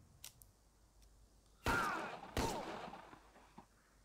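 Two sharp gunshots about a second apart in the Prohibition-era crime strategy game Empire of Sin, each a loud crack with a ringing tail, preceded by a few faint ticks over quiet background.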